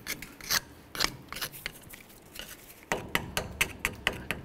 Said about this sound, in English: I'm going to take something like this and I'm just going to clean up as much of this rust slash rot that might be around this area.